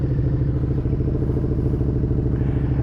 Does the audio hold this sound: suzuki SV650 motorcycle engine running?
yes